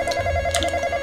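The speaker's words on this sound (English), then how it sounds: "Oh, my phone ringing." A telephone rings with a steady electronic ringtone tone, continuous and fairly loud, heard alone without voices.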